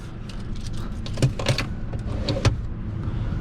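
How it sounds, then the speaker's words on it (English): A 2020 Mercedes GLA is unlocked and entered at night, with a series of mechanical clicks, latch clunks and door thuds over a soft, steady background hiss. "let me unlock the car and we can enter this beautiful interior"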